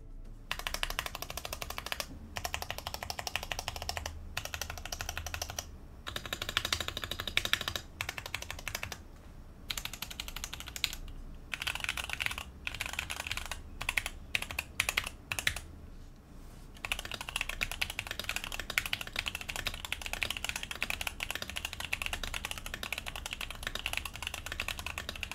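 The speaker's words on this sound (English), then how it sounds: "I did use the included tape mod." Typing on a tape-modded Drop Sense75 mechanical keyboard: close, steady clacking runs with brief pauses between bursts, heard alone.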